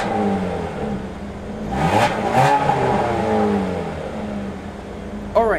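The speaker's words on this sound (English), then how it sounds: "So let's start up the engine here and see how that sounds." A 2016 Dodge Dart's engine is running close by, rising and falling through a couple of revs with a smooth mid-pitched whir, under no speech.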